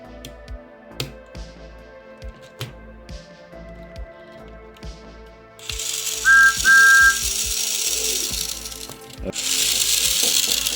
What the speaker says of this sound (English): Motor's working, and it sounded the actual smoke mechanism